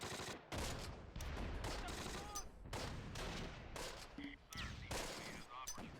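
Continuous gunfire and artillery bombardment in the World War II strategy game Close Combat at Carentan, dense overlapping bursts and booms with brief lulls, loud and sustained throughout.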